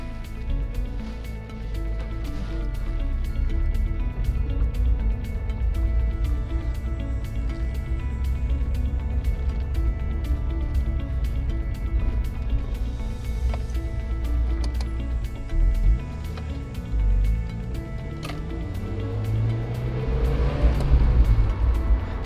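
A Mazda MX-5 engine hums and revs steadily from inside the car while driving, with a ticking indicator-like clicking throughout and a rising rev toward the end, no talk.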